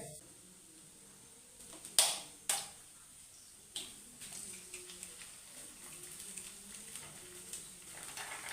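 Drumstick leaves pushed aside with a spatula in a hot frying pan while cooking muringayila mutta thoran: soft sizzling under a few sharp scrapes and clinks, close and fairly quiet, with no talking.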